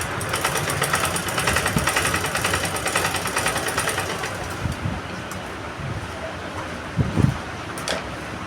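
A sewing machine stitches a blouse, making a steady rapid mechanical chatter that runs for several seconds and then gives way to quieter handling sounds and a few knocks.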